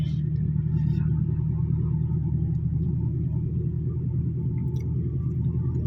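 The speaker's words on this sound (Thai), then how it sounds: "เราอยู่เกียร์สี่เนี่ยเราแตะคันเร่งนิดเดียวพอนะครับ เพราะว่า รอบมันจะขึ้นสูงแล้วนะครับเกียร์สี่เนี่ยครับ" A car engine drones in fourth gear while driving on a main road, a steady low rumble that holds constant and near with a few faint interior sounds on top.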